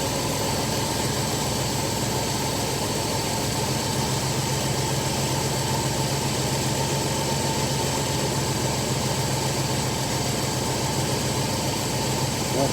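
An engine idles steadily during carburetor adjustment, a loud, even, unbroken rumble close by with no changes in pace and no voices over it.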